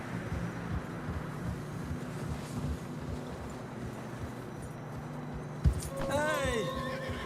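In the video game Red Dead Redemption 2, a horse whinnies loudly near the end over soft, muffled hoof steps in snow and wind, while people talk.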